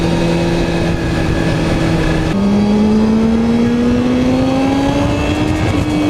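Small two-stroke motorcycle engines rev loud and close at a motorcycle meet with stunts and burnouts, their pitch dropping and then climbing steadily in one sustained, buzzing pull.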